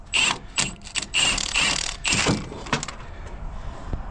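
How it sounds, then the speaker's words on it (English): A bolt is worked loose and pulled from a truss mount, giving a run of sharp metallic clicks, rattles and scrapes up close, in bursts for the first few seconds and then quieter clatter. "So now I just got to pull that bolt."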